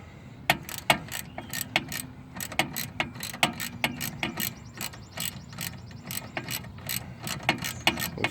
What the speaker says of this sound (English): Take your socket, loosen it, hold that down snug.